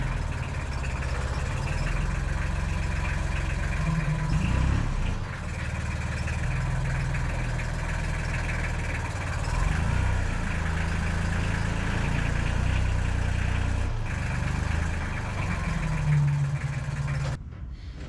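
A heavy tractor engine idles steadily for the whole stretch, a continuous low rumble with a faint mechanical clatter and no voices.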